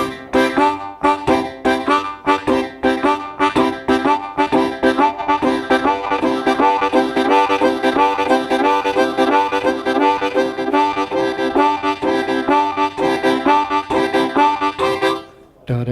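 Harmonica chugging out a steam-train rhythm in rapid breathy pulses, played loud and close, starting slow and gathering speed before stopping abruptly at the end.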